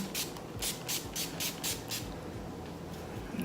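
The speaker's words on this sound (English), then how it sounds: "Go in with a setting spray." Six short bursts of makeup setting spray in a quick, regular rhythm, then quiet; close and fairly soft.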